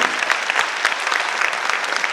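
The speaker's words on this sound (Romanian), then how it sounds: "Aplauze pentru Georgia pe care o să o susține!" Audience applause at an evening event in Bacău: dense, steady clapping from a crowd that fills the whole stretch at a constant loud level, with no voices over it.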